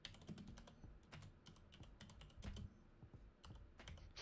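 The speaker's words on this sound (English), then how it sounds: "I'm typing." Rapid typing on a computer keyboard, with irregular bursts of close, crisp key clicks and a few heavier thumps, heard alone at low volume.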